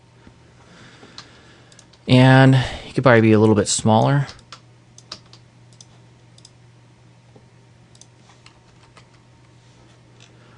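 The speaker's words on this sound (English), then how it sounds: "I'm just using my arrow keys here to adjust this real quick." Computer keyboard arrow keys are pressed in scattered, light clicking taps, one at a time, with a constant low hum beneath. A person speaks briefly early on, before the sparse clicks continue alone.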